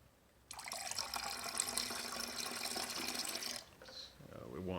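TSP cleaner pours into a bucket of water in a steady, splashing stream that lasts about three seconds and then stops, after which a voice speaks briefly.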